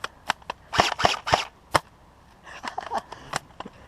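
Sharp airsoft gun shots crack out during an outdoor airsoft operation, some single and some in quick clusters, close and loud, with no talking between them.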